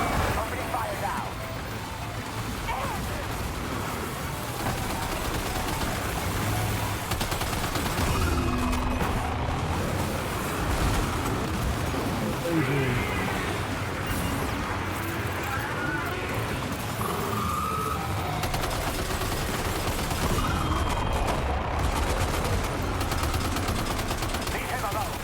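Gunfire in Death Stranding 2 crackles in repeated bursts and rapid volleys across a long stretch of combat, steady and fairly loud, with a voice talking over much of it.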